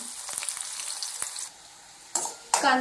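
Onion sizzles in oil alongside curry leaves and green chili, a steady close frying hiss broken by a few stirring scrapes and sudden louder bursts near the end.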